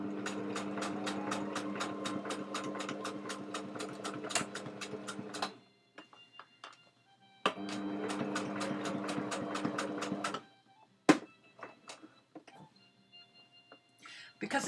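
A sewing machine stitching a reverse embroidery stitch in two loud, rapid bursts of rhythmic ticking, with quiet clicks and small handling sounds in between.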